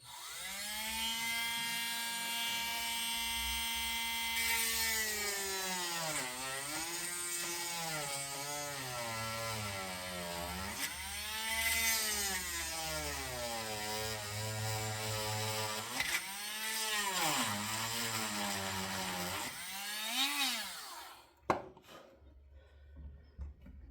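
Power tool reaming out a 38mm Ace padlock held in a vise, a steady whining drill with a pitch that dips and swells repeatedly as it bites into the metal, running close and loud for about twenty seconds before it stops.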